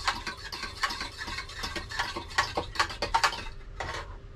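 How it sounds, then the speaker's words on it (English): A utensil stirring lime juice and fish sauce in a pan for chilli barramundi sauce, a quick run of light metallic clinks and scrapes close up, with no talk. "Just want to stir that so it's dissolved."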